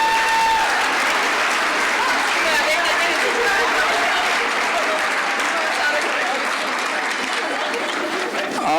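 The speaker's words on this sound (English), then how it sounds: "Let's give one more big round of applause for our class as they make their way back to their seats." Sustained audience applause at an awards event, a dense, steady wash of many hands clapping throughout at constant loudness, with faint crowd murmur beneath.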